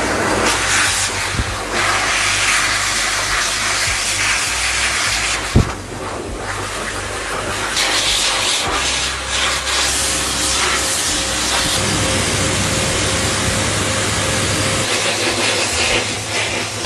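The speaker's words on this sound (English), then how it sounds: "he's not scared of the blower at all" A pet grooming blower drying a dog on a mobile grooming van visit, a loud, steady, roaring hiss of rushing air that briefly dips and then surges back, with no talk over it.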